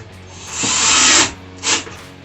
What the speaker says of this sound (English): We're just going to put those screws in there.